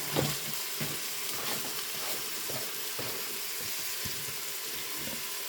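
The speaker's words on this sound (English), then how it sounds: "I'm gonna add the chopped celery and chopped fresh onion." Chopped celery and fresh onion tossed into nearly cooked ground beef in a hot pan, a close, steady sizzle and fry with a few soft stirring knocks.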